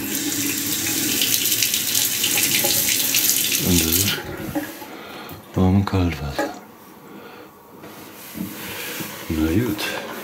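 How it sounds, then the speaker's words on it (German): A stainless steel three-way kitchen faucet with a pull-out spray runs drinking water. A loud, steady rush fills the first four seconds, then stops, and someone talks in the quieter stretch that follows. "Ich kriege jetzt zweimal Trinkwasser raus. Das ist Trinkwasser."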